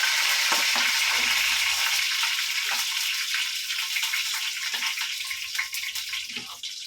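Curry leaves with a little water on them splutter in hot oil while chicken tawa fry is being cooked, a loud crackling hiss at first that settles into steadier sizzling with scattered pops.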